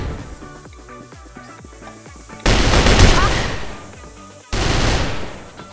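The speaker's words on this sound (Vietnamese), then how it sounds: "Rồi ông kia mang súng máy vô luôn." Machine gun fire in the CrossFire shooter game: long loud sustained bursts, preceded by quieter rhythmic shots and game sounds, with a second heavy burst near the end.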